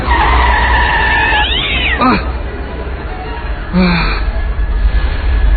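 Loud music plays in the horror game Nightmare Side, then a sharp cat yowl cuts through, followed by a screech and a second pained cry.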